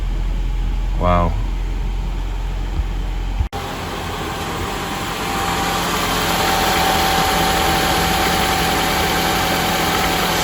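A 2000 Honda Accord engine catches and settles into a steady idle, preceded by a brief voice; the running drone is close and continuous for the rest of the clip.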